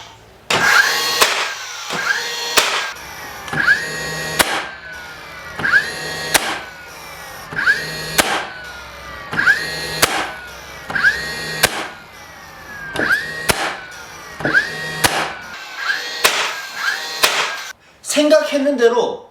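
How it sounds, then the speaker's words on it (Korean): A DeWalt DCN680 cordless nailer set to single-shot mode drives nails into a workpiece, giving about fifteen loud, sharp firing bursts spaced roughly a second apart, each followed by a brief motor whir, close up and with no talking. "설정 모드를 단발로 한 상태에서 모재에다가 박고 이렇게 작업을 하시면 됩니다"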